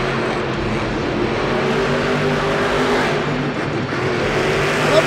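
Monster truck engine roaring continuously at a Monster Jam freestyle run in an arena, loud and sustained with a rough low drone throughout, swelling slightly near the end.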